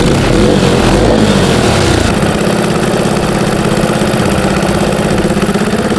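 A 150cc turbocharged go-kart engine runs after a mechanical failure, droning loud and close with a rough, vibrating idle that settles into a steadier rattle partway through.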